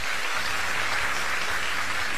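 Studio audience applauding on a live Brazilian TV variety show, a steady broadband wash of clapping filling the whole moment without any talk.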